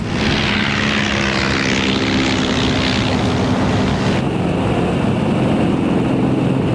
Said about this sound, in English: 21 Swordfish torpedo bombers lifted off an aircraft carrier